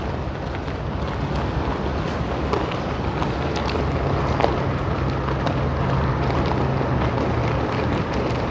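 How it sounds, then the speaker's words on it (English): Strong wind roaring and buffeting steadily on the windy side of a tower above the Union Pacific train yard in North Platte, Nebraska, a dense rushing noise with gusts pressing against the microphone throughout. "This is the windy side of the tower"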